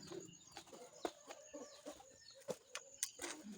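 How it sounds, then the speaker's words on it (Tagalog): Several chickens cluck in short, scattered bursts nearby. The sound is soft and rises over a quiet outdoor background. "Daming manok."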